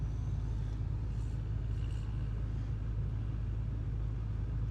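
A camper van's engine drones steadily as it drives on a cold winter road in Yellowstone National Park, a constant low rumble with road noise throughout and no distinct rev peaks.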